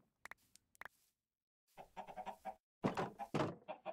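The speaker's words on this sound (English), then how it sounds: "I have a lot of encapsulated chickens." Chickens in the Minecraft video game cluck in short bursts, a few quick clucks, a pause, then a run of louder clucking, with no talk over it.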